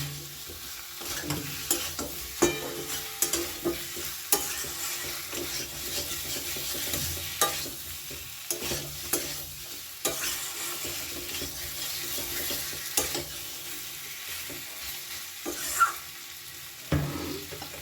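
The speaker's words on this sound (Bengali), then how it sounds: "খুব ভালো করে এটা মশলার সাথে আমি মিশিয়ে নেব এই সময় কিন্তু আমার গ্যাসের ফ্লেমটা আমি মিডিয়ামে রাখলাম" Taro and potato with spices being stirred in a pan over a medium gas flame, a soft steady sizzle with intermittent scraping strokes of the spoon, close and alone.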